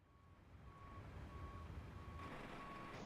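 An airport bus backs up in a flight simulator, its reversing alarm beeping five times at a steady rhythm, faint and somewhat distant over a low engine rumble and ambient hum.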